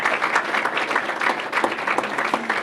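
Steady round of applause at a board of education meeting honoring national champions, a room of people clapping continuously at moderate loudness.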